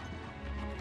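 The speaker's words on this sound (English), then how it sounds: "That's my horse, the black one. The Tennessee walking horse." Hooves of a black Tennessee walking horse mare clip-clop in a brief, steady patter close by, with no voices over them.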